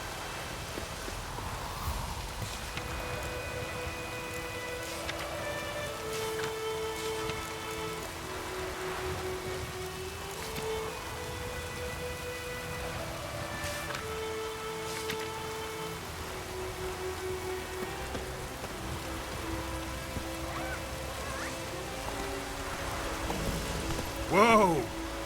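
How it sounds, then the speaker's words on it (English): Rain falling in The Witcher video game, a soft continuous patter of drops on surfaces under a sustained melodic music score, with a voice speaking over it. "Let it rain."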